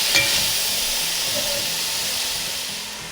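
Yakisoba noodles and sauce being stirred together in a hot pan: a steady close sizzle and hiss with faint scraping, fading slightly toward the end, no talking.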